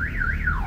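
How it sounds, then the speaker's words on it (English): A car alarm wails on a street in Lima, Peru, its pitch sweeping up and down in a loud continuous siren over low traffic rumble. "loud trucks and a loud barking dog and the occasional car alarm"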